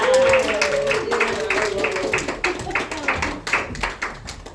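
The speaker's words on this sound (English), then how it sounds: "Another round of applause for Alexa" Comedy club audience clapping for a stand-up comic, a loose patter of hand claps with whoops, mixed under a talking host's voice.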